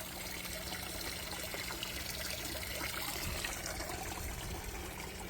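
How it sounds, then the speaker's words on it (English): Water from an aquaponic system trickles and splashes steadily, soft and continuous, with no voices over it. "The aquaponic system is doing its thing. Nice water sounds."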